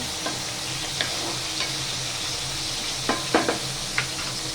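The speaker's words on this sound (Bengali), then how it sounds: "আর এখানে কুমড়ো ভাজাটা হচ্ছে," Pumpkin slices fry in a pan under a continuous sizzle. A utensil scrapes and taps against the pan several times, with a cluster of knocks toward the end, and no one speaks.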